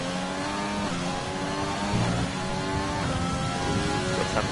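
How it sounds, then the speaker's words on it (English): A McLaren race car engine in a racing video game screams at high revs during qualifying on an Australian circuit, with loud, continuous whine that rises and dips through gear shifts and corners. "As Jer comes around the corner now in the McLaren."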